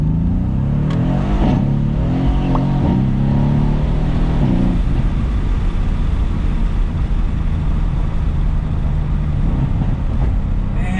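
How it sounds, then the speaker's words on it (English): The V8 engine of a 2018 Mercedes-AMG C63 S with a performance exhaust revs hard and roars steadily, its deep exhaust rumble rising and falling before settling into a sustained drone, with no talking. "are you guys ready to hear the V8 symphony from this engine?"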